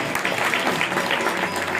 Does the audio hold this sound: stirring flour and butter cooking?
no